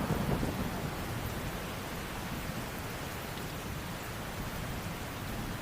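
Heavy rain pours steadily in a dense, unbroken hiss, with a low rumble of thunder underneath.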